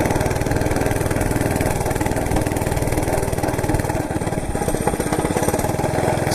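A Monter Moto MMB80 gas minibike's small engine chugs steadily while being ridden, a close, continuous rapid putter with a rough, even pulse throughout and no speech.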